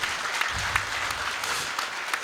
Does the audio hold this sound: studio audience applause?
yes